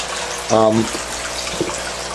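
An aquarium filter's waterfall outflow pours steadily into the tank, a constant splashing wash of water that runs throughout, with a brief voice or tone rising over it once.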